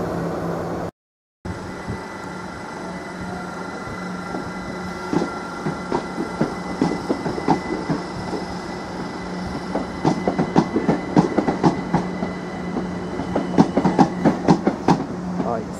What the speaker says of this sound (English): 387118 and 387115 have departed our platform 3, working the 1253 service to London King's Cross